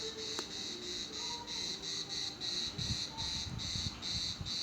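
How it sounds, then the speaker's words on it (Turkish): Cicadas on a hilltop in Alanya among century-old plane trees: a loud, continuous shrill buzzing that pulses in regular waves, close and dominant throughout, with faint low background rumble. "Evet, Ağustos böceklerimiz başladı."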